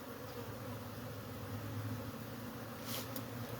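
Angry honey bees buzzing in a dense, steady drone while comb is torn out of a hive inside a cable box, close and continuous with no talk.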